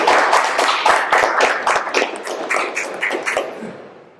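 Applause from an audience closing a panel discussion at the Buenos Aires book fair: many hands clapping at close range, loud at first and gradually thinning and fading toward the end, with no one speaking.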